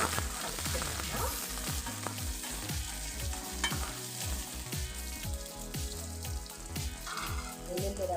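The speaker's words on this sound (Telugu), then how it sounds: "పచ్చిమిర్చి ముక్కలు అన్నీ వేసాక బాగా కలుపుతున్నాము" Green chilli pieces are stirred into a bottle gourd curry in a pan, giving a steady sizzle with repeated scraping and clinking strokes of the spoon, close and continuous, with no talk.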